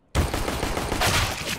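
Shotgun fire in the game CS:GO, a sudden loud burst of shots that starts sharply and rings on with dense repeated blasts over a short span.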